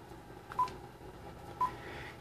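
Telephone keypad dialing tones: two short, separate beeps about a second apart, fairly faint over a quiet low background hum.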